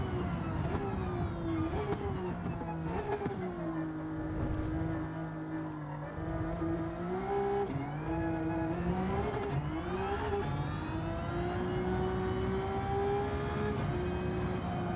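A race car engine roars continuously during a racing video game time trial, with the pitch climbing and dropping through upshifts and braking and rising again under acceleration.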